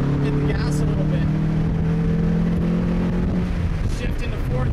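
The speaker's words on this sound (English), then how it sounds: "I downshift, and I get on it. Hit the gas a little bit." A manual-transmission car engine pulling hard after a downshift, heard from inside the cabin, its drone climbing and then dropping as it shifts into fourth gear, loud and close.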